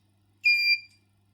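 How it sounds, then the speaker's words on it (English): One short, shrill electronic beep from a small active buzzer driven by an ESP microcontroller, lasting about a third of a second, against near silence. "There's our buzzer"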